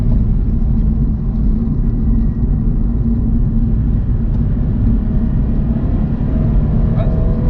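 A Toyota GT86 with a 2.0 litre four-cylinder boxer engine drones steadily from inside the cabin while driving with the exhaust valves closed, a muffled low rumble with road noise throughout.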